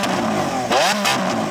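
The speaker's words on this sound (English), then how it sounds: "Now let's have a listen to the Aventador S." A Lamborghini Aventador S engine blips in quick revs close by, its loud rasping roar swelling and falling twice within a couple of seconds.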